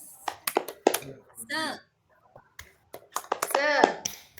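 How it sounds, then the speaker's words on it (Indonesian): A small class joins in the tepuk semangat clapping chant, with sharp claps and snaps interleaved with children's voices chanting, in short rhythmic bursts separated by a brief pause. "1, 2, 3. Tepuk semangat."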